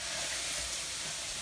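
Red wine hitting a hot pan of onions gives a steady, soft hissing sizzle, faint and even throughout, with no talk over it.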